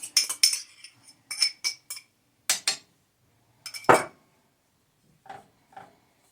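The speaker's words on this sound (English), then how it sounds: "We are going to need 2 eggs that we are going to put in here, and then we're going to mix that around." Two eggs are mixed into cornbread dressing with a utensil, heard as quick bursts of clinks and taps against the bowl separated by short silences, close and crisp.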